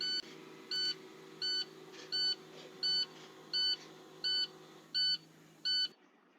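Regular electronic beeping from a school bus in the video game Rigs of Rods, about nine evenly spaced tones repeating roughly every 0.7 seconds over a steady low engine hum, stopping near the end.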